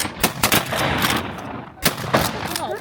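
Shotgun blasts during a guided upland bird hunt in Oregon, several sharp close reports in quick succession over outdoor background noise.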